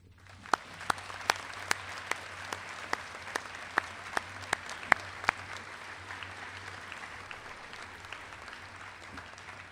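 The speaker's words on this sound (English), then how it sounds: "Please join me in giving the parents, grandparents, special friends, teachers, and administrators a round of applause for their hard work and dedication." An audience at a National Honor Society induction ceremony claps, a faint distant patter of applause with a few louder, sharp claps standing out near the front, over a steady low hum.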